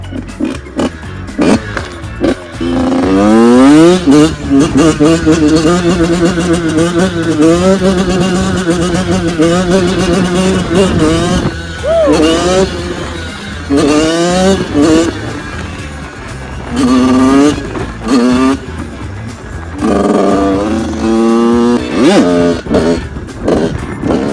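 A motorcycle engine revs repeatedly during a wheelie, rising and falling in pitch with loud throttle bursts and brief lulls, close by.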